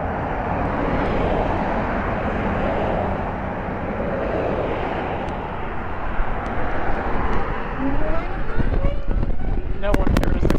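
A Zero DSR-X electric motorcycle with street tires accelerates in Canyon mode, wind and road rush dominating with a faint rising motor whine, and a voice talking over it.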